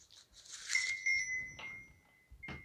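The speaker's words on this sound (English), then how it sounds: "Here's a Christmas tree bell." A small Christmas tree ornament bell jingles, giving a bright, lingering ring that fades over a second or so, with soft handling noise around it and a second quick ring at the end.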